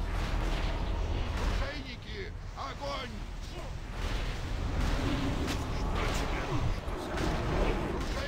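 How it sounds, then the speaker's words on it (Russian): Booming cannon fire and explosions hit a ship under attack in a video game battle, dense and continuous throughout with loud low rumbling, while players talk over the barrage. "Корабль под обстрелом!"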